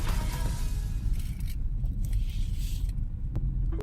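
Car driving in traffic on a trip from Pampanga to Quezon City, a heavy, continuous low engine and road rumble heard from inside the vehicle, with a faint scrape near the end.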